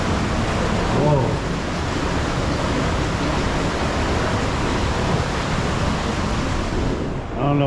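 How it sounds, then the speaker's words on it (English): Water from a small dam rushes in a loud, constant roar, a dense steady wash filling the whole stretch, with brief voices near the start and end. "Look at all that water rushing through there"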